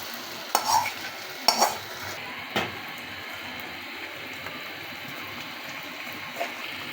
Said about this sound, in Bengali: এটা কনস্ট্যান্টলি নাড়তে থাকতে হবে যাতে করে দলা পেকে না যায় ময়দাগুলো